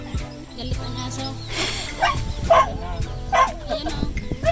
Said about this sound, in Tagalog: Galit ang aso.